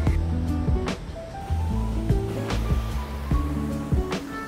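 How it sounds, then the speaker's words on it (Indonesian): A flowing river at a family campervan campsite on a cool, dewy morning, a steady close wash of rushing water running continuously beneath faint tonal background sounds and occasional knocks. "suara aliran sungai yang bikin makin adem dan makin dingin"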